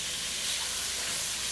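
Pork and a clove of garlic sizzle while being sautéed in a pan, giving a steady, bright, hissing crackle that stays even and fairly close for a second and a half with no voices.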